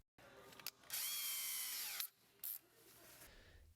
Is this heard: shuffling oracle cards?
no